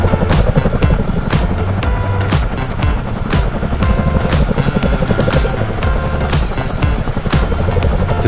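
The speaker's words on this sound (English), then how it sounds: "The CH-47 Chinook from Miltech Simulations has been out for a little over a week now." A Miltech Simulations CH-47D Chinook tandem-rotor helicopter in Microsoft Flight Simulator, with loud, continuous rhythmic rotor thumping and a whining turbine drone, close and steady throughout.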